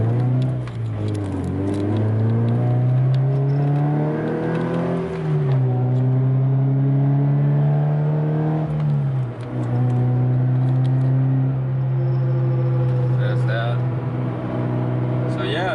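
A Subaru engine pulls hard from first gear, its revs climbing to about 3,000, dropping sharply on the shift to second and then rising again. The loud, close drone runs for the whole stretch.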